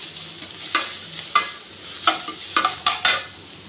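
Grated, lightly squeezed cucumber fries in a pan for cucumber rice, with a soft background sizzle broken by about seven sharp, close spatula scrapes and stirring strokes at uneven intervals.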